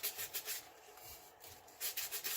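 Sandpaper rubs back and forth over a glitter tumbler in quick, soft strokes, pausing briefly in the middle before resuming, quiet and close.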